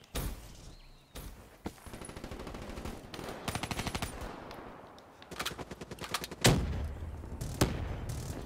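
Heavy gunfire and explosions in the video game Call of Duty: Black Ops III, with bursts of automatic fire, single shots and deep booms coming in uneven clusters, loud and close throughout.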